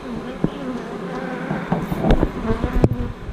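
A honeybee colony hums in an opened hive, a steady close buzz with occasional louder passes near the microphone, while a person talks over it.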